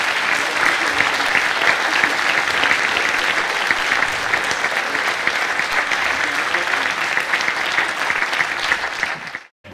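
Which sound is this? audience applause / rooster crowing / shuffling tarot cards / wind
audience applause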